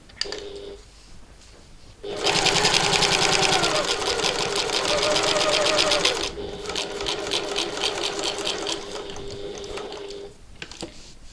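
A sewing machine stitches around foam-backed bag pieces, starting after a quiet moment, running fast and loud for several seconds, then slowing to an uneven, softer pace around curves before stopping. A voice talks faintly before the stitching starts.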